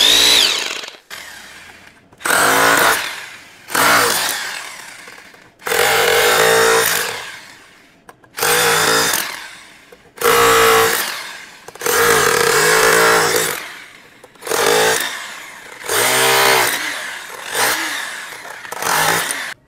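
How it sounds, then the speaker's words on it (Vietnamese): An electric rotary hammer drill fitted with a 16 mm bit bores into a concrete block in about eight loud, grinding bursts of a few seconds each, separated by brief pauses with no talking. "Mũi 16 khoan bê tông trên cái khục này, khục bê tông mẫu này, MMA300."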